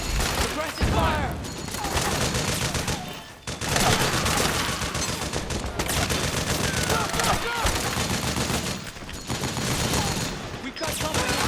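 Dense, continuous gunfire from Metal Gear Solid 4, rapid automatic bursts and blasts layered together at loud volume, with shouted voices mixed in.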